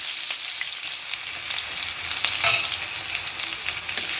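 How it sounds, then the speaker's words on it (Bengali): Onions dropped into hot oil in a wok sizzle and crackle steadily at close range, with a brief louder burst midway and no talking. "এটা গরম হয়ে গেছে, পেঁয়াজটা ছেড়ে দিলাম।"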